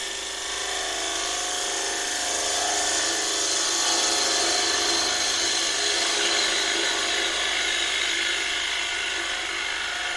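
Steady, loud hiss and rasp of a bowl gouge cutting into a 3-inch thick piece of wood spinning on a lathe, continuous and close throughout.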